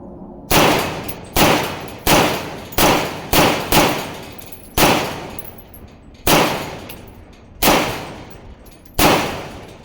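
A .308 IWI Zion 25 rifle firing cheap lacquered-case ammunition outdoors: nine loud, sharp shots at an uneven pace, each cracking out and trailing off in a long ringing echo.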